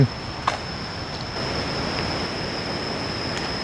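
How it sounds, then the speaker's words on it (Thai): Khone Phapheng waterfall on the Mekong in southern Laos, heard as a steady distant roar of rushing water, even and continuous, with a faint click at the start. "ก็มีเสียงน้ำตก"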